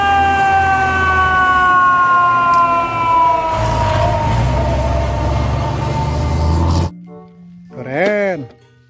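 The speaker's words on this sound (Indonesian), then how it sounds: "ada mobil pemadam kebakaran" A toy fire truck siren wails loudly in a steady, slowly drooping electronic tone, then cuts off sharply, followed by a brief excited voice.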